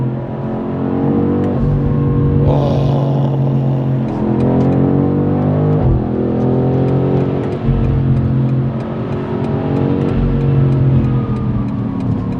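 BMW M850i V8 in Sport Plus mode accelerating, its exhaust roaring loudly as revs climb and fall across several gear changes, with sharp pops and crackles between shifts, heard close from the cabin.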